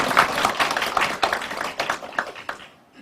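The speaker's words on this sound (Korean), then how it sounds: "한 박수 부탁드립니다" A small audience claps for a guest introduced as the former head of the Gyeonggi transportation corporation at a Goyang eco-friendly farming policy forum, a short burst of close, distinct claps that thins and fades out.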